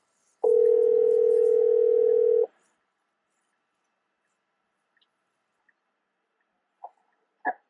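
A ringback tone from an Uber app data call placed on an iPad: one steady tone lasting about two seconds, then near silence with a couple of faint clicks.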